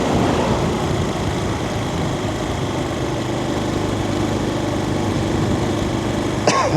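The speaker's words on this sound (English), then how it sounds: "I escaped that bloody tractor, obviously not." A tractor engine runs nearby on a Cornish road, a steady droning rumble that holds constant throughout, with a brief cough near the end.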